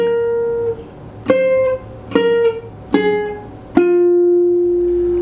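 A ukulele plays a song's riff on the third string, five separate plucked notes spaced about a second apart, each ringing clearly and decaying, with no voice over them.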